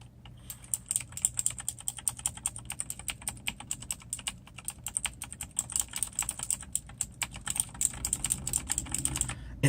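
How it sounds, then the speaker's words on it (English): Rapid, continuous typing on a Razer keyboard fitted with Kailh clicky mechanical switches, a dense run of sharp, close clicks and clacks that keeps going for the whole stretch with no talking. "I think only the Razor Kailh boards has this distinctive sound."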